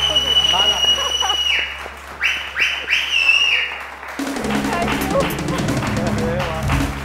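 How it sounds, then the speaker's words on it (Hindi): Studio audience applause for an actress on a morning TV show, a burst of clapping and cheering with whistles over music, loud and crowded, continuing as a dense wash of claps. "बहुत सारी तालियां हिरा के लिए।"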